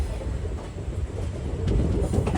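A Silambu Express sleeper train runs on rails near Tenkasi, a loud continuous low rumble and rattle from inside the coach, with light clicks of the wheels over rail joints building slightly toward the end.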